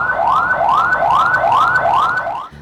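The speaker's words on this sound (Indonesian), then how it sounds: "Sirene ini dinyalakan sesekali namun sangat pelan, menandakan bahwa kondisi pasien stabil dan tidak memerlukan penanganan cepat." A loud ambulance siren plays a repeating rising wail, about five even sweeps at roughly half-second intervals, close and alone before cutting off abruptly.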